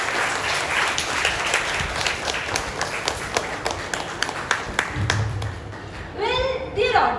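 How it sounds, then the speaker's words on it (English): Audience applause for a young author after an interview at a women's college event, a steady wash of clapping over much of the span with brief voices near the end. "So please give them a big round of applause"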